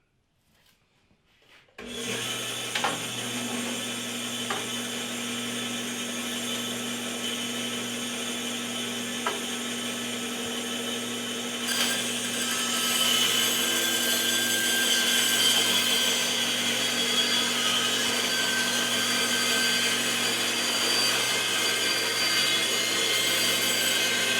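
A hand saw rasps steadily through a wooden log being cut into slats for traditional snowshoe making, a continuous close grinding stroke that begins abruptly and grows a little louder partway through, with no talking.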